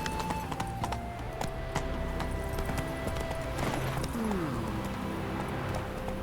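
Horse galloping in The Witcher 3 video game, rapid rhythmic hoofbeats pounding steadily and close, with a rider's brief calls and ambient game sounds layered over the running gait.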